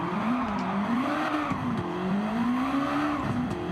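Honda Civic race car in Gran Turismo 7 driving steadily, its engine drone rising and falling continuously with faint tire noise, loud and close with no talking.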